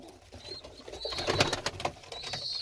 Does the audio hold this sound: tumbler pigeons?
yes